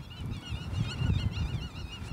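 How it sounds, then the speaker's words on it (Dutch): A large flock of geese honks continuously on Terschelling in spring, dense overlapping calls rising and falling over a low, rumbling background. "die ganzen, want het zijn natuurlijk op dit moment natuurlijk duizenden, honderdduizenden"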